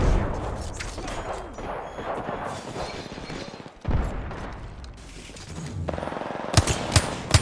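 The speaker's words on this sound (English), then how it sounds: "She is still shooting a charge rifle" Charge rifle fire and other weapons in the video game Apex Legends, irregular sharp shots and heavy bangs with a few louder cracks near the end, set against ongoing game noise.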